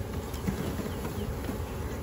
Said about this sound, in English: Are you dumping the rest of the bees now?